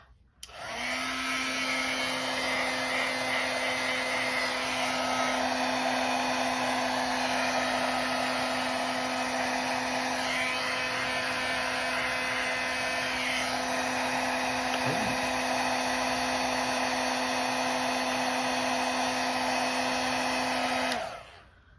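An electric heat tool melts embossing powder on a handmade card, blowing a steady, loud whirring roar with a constant hum that runs unbroken for about twenty seconds, close by and alone without any talk.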